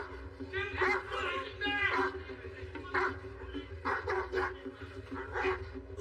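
A dog barks and yips from inside a house during a police operation to secure the property, with repeated sharp barks over steady background noise and people talking.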